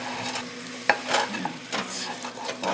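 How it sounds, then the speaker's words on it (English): Oatmeal mixture with vanilla starting to bubble in a pot on the stove, with soft sizzling, small pops and a sharp clink of a spoon or utensil, heard up close without speech. "It's starting to bubble now."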